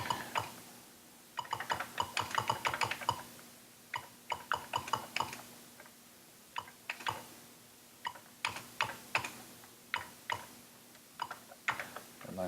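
Irregular clicking keystrokes on an Atari 8-bit computer keyboard, played in quick bursts with short pauses between, close and fairly quiet over a faint steady hum.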